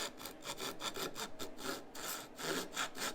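A Japanese pull saw cuts through wood in steady rhythmic strokes, a close, moderately loud rasping back-and-forth with no voices over it.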